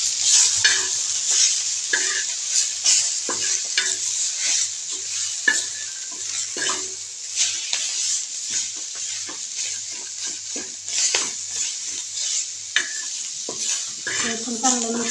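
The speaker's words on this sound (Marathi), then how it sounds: "हे आपण चांगलं मिक्स करून घेऊ." Fenugreek leaf bhaji with added peanut powder is stirred and fried in a pan: a continuous bright sizzle with repeated scraping and clinking strokes of the spoon at an irregular, busy rhythm, close and fairly loud.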